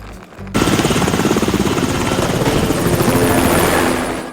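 A helicopter roars in suddenly and stays loud overhead, its rotor beating in a fast, steady chop over a dense engine whine.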